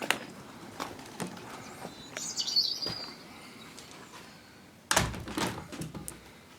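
A pigeon flaps its wings and thumps about, with a burst of loud flapping and knocking near the end, over soft bird chirps and light background noise.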